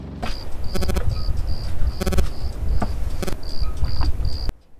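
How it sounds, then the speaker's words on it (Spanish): Cricket chirping at night aboard a boat anchored off northern Menorca, loud close bursts of rapid pulsed chirps repeating at a regular rhythm over low background noise, then cutting off abruptly. "tengo por aquí un grillo que se ha debido subir al barco como hace 5 o 6 días y todas las noches está por aquí dando la turra"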